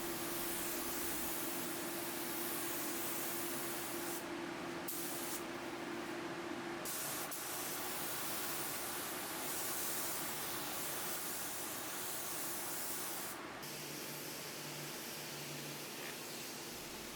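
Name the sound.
spray painting dresser drawers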